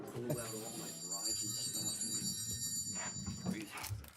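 A telephone rings with a steady electronic trill under people talking nearby at a village board meeting.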